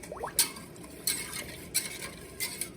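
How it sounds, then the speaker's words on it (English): Sugar being stirred into eight cups of lilac tea in a pot for lilac jelly, heard as a few separate soft scraping strokes against a faint background, with no talking. "Give that a little mix."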